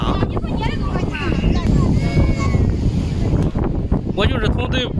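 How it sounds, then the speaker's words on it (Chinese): Strong wind buffets the microphone at the southern end of a seaside fishing pier, a loud continuous roar over rough waves, with people talking faintly nearby. "今天有风啊，风很大，浪也很大，"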